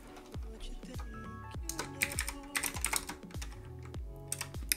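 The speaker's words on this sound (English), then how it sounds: "I'm gonna type in click." Computer keyboard keys click in quick bursts of typing, close and fairly clear, with a soft voice talking faintly underneath.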